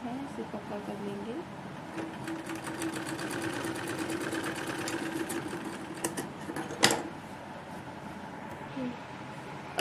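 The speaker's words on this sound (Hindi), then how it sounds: "इसे हम इसी तरीके से पूरे में राउंडली सिलाई लगानी है, इसे पक्का कर लेंगे" Sewing machine stitching around a sleeve at a steady, fairly quiet pace, with one sharp clack partway through.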